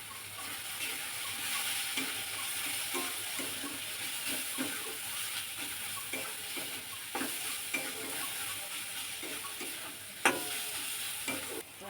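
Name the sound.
mashing and mixing boiled potato with spices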